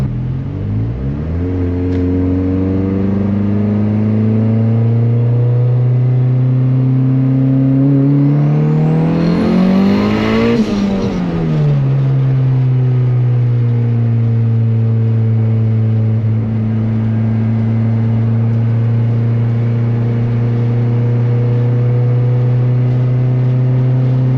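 A turbocharged Honda Civic running on E85, with water-methanol injection switched off, accelerates hard on track through several gears; the engine note climbs loudly, dips at each shift, then peaks with a turbo whoosh before settling to a steady cruise.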